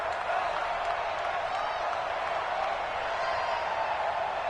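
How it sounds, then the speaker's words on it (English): A football stadium crowd at a Bears vs Packers game roars for a big third down: a steady, dense wash of cheering and applause that holds level throughout with no breaks. "the crowd getting into it as we come up on a big 3rd down"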